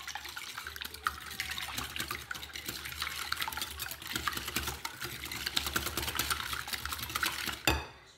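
Whole eggs whisked in a bowl for savory pizza muffins, a dense, steady rapid clatter of whisk against the bowl lasting several seconds, close and fairly quiet, ending with a brief louder knock.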